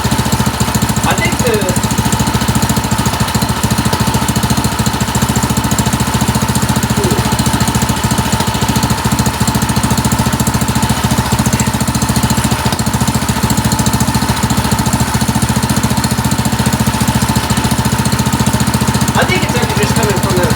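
A Harbor Freight ATV engine runs continuously, its rapid, loud, even knocking chatter coming from the flywheel, steady throughout with no pause.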